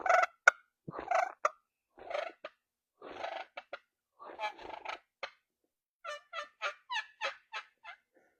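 A turkey mouth call imitating a hen, producing a series of short clucks followed by quicker, rolling purrs, close and clear with pauses between bursts.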